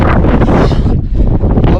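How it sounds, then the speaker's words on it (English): Strong wind buffeting the microphone near the summit of Great Dun Fell, around 2,600 feet up, a loud continuous roaring rush with a brief dip midway. "The wind's starting to pick up."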